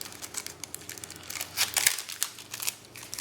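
Crinkling of a plastic bag holding a fishing hook and lure kit, with quick, close rustles and crackles in irregular bursts, faint overall.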